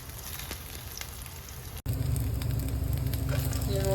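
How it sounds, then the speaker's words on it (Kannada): Vegetable cutlets frying in a pan, a continuous crackling sizzle with scattered pops, briefly cut off and then resuming louder and fuller. "ಗೋಲ್ಡನ್ ಬ್ರೌನ್ ಆಗೋ ತನಕನೂ ಬೇಯಿಸ್ಕೋಬೇಕು"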